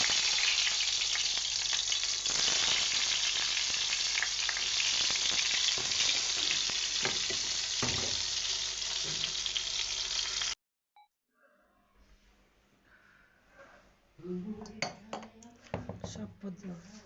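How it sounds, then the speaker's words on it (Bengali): Eggplant (brinjal) slices frying in a pan give a loud, continuous sizzle for about ten seconds, then the sound cuts off. Quieter clinks of utensils and a voice follow. "এখন এই বেগুনটা ভাজা"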